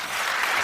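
A short burst of audience applause, dense and steady clapping from a crowd with no voices.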